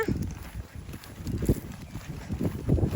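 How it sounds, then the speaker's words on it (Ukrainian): Gusty wind buffets the microphone outdoors in a countryside meadow where cows graze, a steady low rumble that swells and dips in loud waves with no clear talk over it. "Тут такий теж вітер дує."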